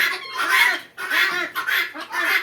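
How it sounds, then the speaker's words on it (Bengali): Titi and tiger chickens on a poultry farm cluck close by in four or five quick bursts, with brief pauses between the calls. "পাশাপাশি আমার কাছে কোয়েল পাখি আছে তিথি মুরগি আছে টাইগার মুরগি আছে"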